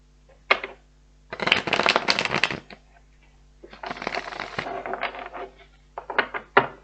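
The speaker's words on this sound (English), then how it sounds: "One more shuffle." Tarot cards being shuffled by hand in bursts, close and crisp, with riffling clusters separated by short pauses and a few sharp taps of the deck.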